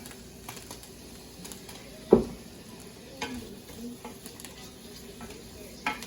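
Onions cook in a little oil in a pan with a faint, low sizzle, broken by a few soft clicks and clatters of utensils, quiet and close.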